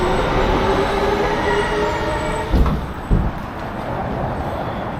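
A train rumbling through the station below in Rosengard, Sweden, a loud steady rolling roar with a faint high squeal and a couple of brief clanks, no talking.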